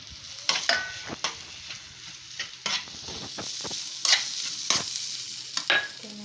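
Potato pieces are stirred into a hot pan of spiced oil with turmeric, making a steady close sizzle broken by repeated scraping strokes of the spoon. No one speaks.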